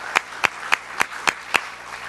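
An audience at an educator award ceremony claps in unison, six even, sharp claps about a quarter second apart over a soft room hum.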